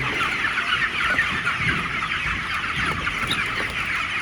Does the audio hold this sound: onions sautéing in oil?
no